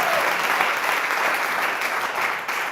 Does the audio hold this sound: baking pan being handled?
no